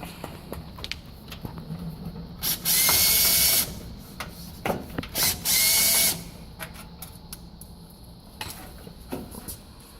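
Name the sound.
power drill driving screws into oven control panel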